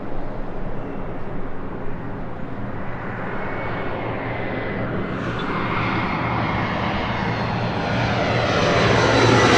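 Jet engines of a KLM airliner departing Los Angeles International Airport roar steadily and loudly for the whole stretch, a broad sustained rumble that builds slightly toward the end, with no voices.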